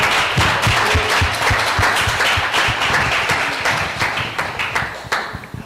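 A church congregation applauding loudly, many sharp claps overlapping, then thinning into fewer scattered claps toward the end.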